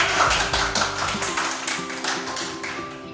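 A classroom of students gives group 1 a short round of applause, with dense overlapping clapping that is loud at first and thins out toward the end.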